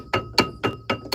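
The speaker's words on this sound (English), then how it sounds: "Can I start banging with the hammer just yet?" A hammer bangs while car brakes are changed, five evenly spaced, sharp metallic strikes ringing close by with a faint tone between hits.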